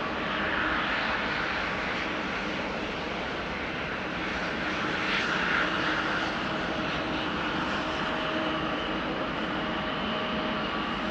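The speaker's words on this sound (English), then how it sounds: "Next up, an Embraer 175, KLM flight 1337, going to Wrocław in Poland." An Embraer 175 jet on a KLM flight departs Amsterdam Schiphol with a loud, steady, broadband engine roar that stays close and continuous throughout.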